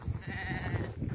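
A sheep bleating once in a long wavering call in South Australia, close and fairly loud over low outdoor rumble.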